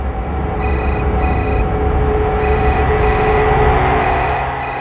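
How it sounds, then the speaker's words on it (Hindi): An electronic mobile phone ringtone trilling in repeated paired bursts over a steady background rumble, loud and close. "मीता का फोन?"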